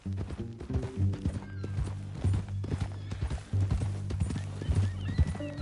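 Horse hooves clip-clopping at a steady walking rhythm in Red Dead Redemption 2, a loud, regular patter of hoof strikes over a low musical drone with occasional short vocal-like sounds.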